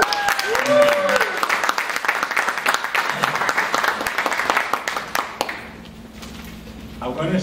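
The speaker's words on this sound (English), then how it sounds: "I'd like to ask for a very special applause to my very good friend, Mr. Frank Fuentes" An audience gives applause at a networking event, a lively burst of many claps that carries on for several seconds, mixed with talking and some tapping, then thins out and fades toward the end.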